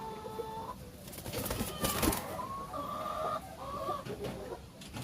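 Chickens clucking and a rooster calling nearby, with a brief burst of rustling and flapping in the middle.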